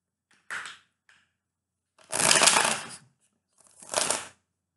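Three brisk bursts of tarot cards being shuffled, short riffling rustles separated by quiet pauses, close and crisp.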